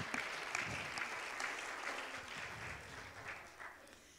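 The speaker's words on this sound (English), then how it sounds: "Can we give him a hand clap tonight?" A church congregation claps hands during a Wednesday evening service, a quiet, somewhat distant patter of many hands that gradually thins out.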